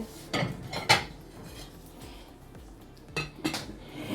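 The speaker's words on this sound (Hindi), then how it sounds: "इसको हम ढाँप देते हैं प्लेट से।" A plate goes over a pot of milk with a few sharp metallic clinks and clatters, in two short bursts separated by a quiet pause.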